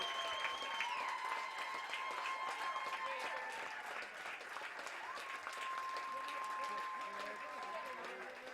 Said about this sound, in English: A standing ovation from the Watertown crowd.